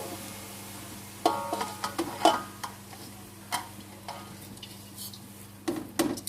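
About two kilos of finely chopped, washed mustard greens go into a cooking pot, making soft rustling and scattered light clinks and taps against the metal, quiet and irregular.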